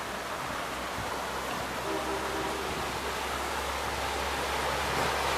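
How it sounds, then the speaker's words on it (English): Flowing river water in rural Jamaica makes a steady, even rushing hiss with no breaks, close by and unaccompanied by speech. "Look on that nice river here."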